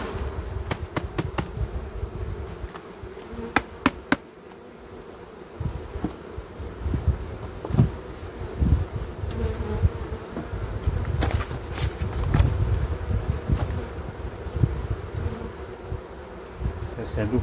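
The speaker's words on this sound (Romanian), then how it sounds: "Scuturăm aceste albine." A dense, steady buzzing of many honeybees close up as they are shaken from a hive frame during autumn amitraz treatment, with occasional sharp knocks and a brief lull near the start.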